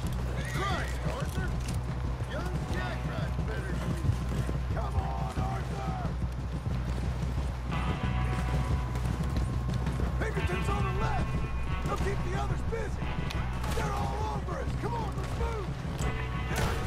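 Horse galloping in the Western video game Red Dead Redemption 2, rhythmic hoofbeats with whinnies and creaking tack, over game music and ambience, with someone speaking Spanish over it.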